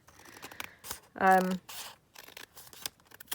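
Someone cuts open a package at a craft workbench, a quick scissor snip and tearing rustle lasting about half a second, close and fairly loud, with someone talking before and after.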